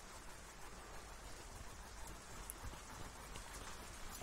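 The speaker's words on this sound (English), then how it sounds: "I don't know if you can hear the rain." Steady rain falling outdoors at night, a soft continuous patter and hiss heard faintly from indoors with no other sounds.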